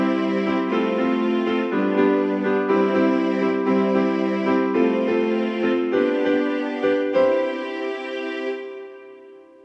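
Multitrack keyboard playback on a Casio CT-X5000, a layered recorded part with sustained harmonic tones and shifting chords, steady and fairly loud for about nine seconds before fading out.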